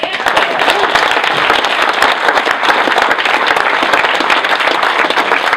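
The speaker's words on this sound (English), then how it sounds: "So I want to give one more round of applause for our brave champions here in the Capitol" Loud, sustained applause and clapping from a crowd at a rally at the Capitol, dense and continuous throughout with a few faint voices mixed in.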